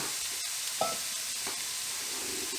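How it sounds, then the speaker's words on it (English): Chicken, pepper, onion and chilli sweat in a dry pan, giving a steady close-up sizzling hiss broken by a few soft scraping stirs, with no voices. "And that can all go into the pan, and that can start to sweat down."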